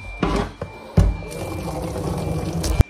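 Dirty water is poured out while something is being cleaned, short splashing gushes and a sustained trickling pour close by, with a few sharp knocks.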